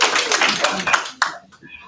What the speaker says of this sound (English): Round of applause for James Tafadhali.